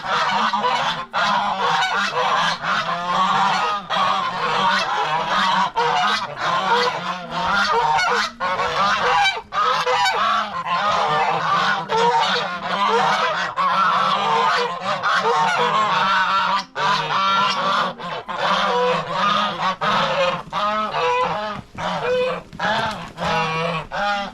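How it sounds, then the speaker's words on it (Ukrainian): A flock of large farmyard geese honks loudly and continuously at close range, their harsh overlapping calls going on without a break. "Ось тут у мене гуси, вже такі великі. Чого ви кричите, дочки мої."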